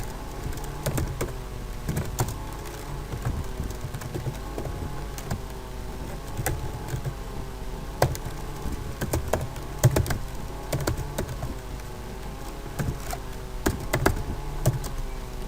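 Rapid, uneven clicking of keys on a computer keyboard during a speed typing test, close and crisp, with bursts and brief pauses across the whole stretch.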